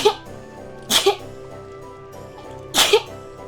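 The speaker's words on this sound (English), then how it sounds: "my dog gets scared when I sneeze." Three sharp sneezes burst out at spaced intervals, loud and close, with quiet in between.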